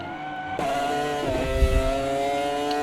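Race cars drive at Bathurst in a racing video game, with one slow-moving car on track. A close engine note rises and shifts in pitch as cars accelerate and pass, loud and sustained with no talking.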